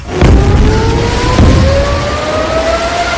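Loud rising wail of air raid sirens in Israeli cities during an Iranian ballistic missile attack, a steady tone slowly climbing in pitch over a dense rumbling background.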